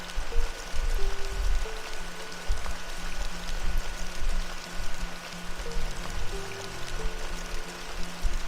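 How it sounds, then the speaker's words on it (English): Steady simulated rainfall from the PS4 video game Dreams, part of a basic rain cycle, gives a continuous dense patter and hiss of drops on wet ground, with faint tonal sounds running underneath and no talking. "So that was me testing the level out with the sound effects of the rain"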